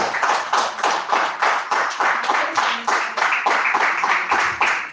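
A church congregation at a Sunday worship service claps strongly and in unison for Jesus, a steady rhythmic beat of loud, close hand claps repeating about three times a second without pause.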